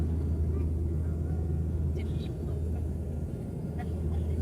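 Low, steady cabin rumble of a small passenger plane during its landing approach, a constant droning roar filling the space with faint voices in the background.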